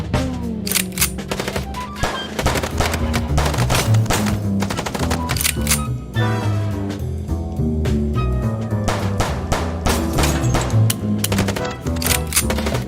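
Dense rapid gunfire in the video game Chicken Police, loud bursts of automatic shots and single cracks firing almost nonstop through a driving chase scene.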